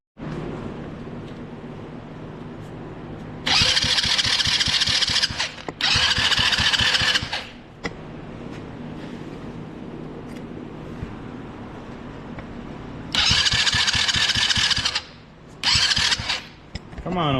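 An old quad ATV engine is cranked repeatedly without starting fluid, giving four loud bursts of starter whirring and sputtering that stop and restart, with a low idle-like rumble and faint background noise between attempts.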